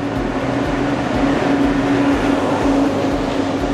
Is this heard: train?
yes